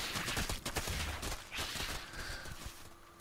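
Baneling explosions in a StarCraft II match on Tal'Darim Altar, a dense, loud barrage of overlapping bursts and pops that keeps going for several seconds with no speech over it.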